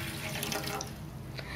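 Water is poured into a vessel to make flax seed gel, a close, steady splashing stream running throughout, alone with no talk.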